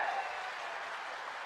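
A political rally crowd in Madhya Pradesh applauds to welcome Rahul Gandhi, a brief, even wash of distant clapping.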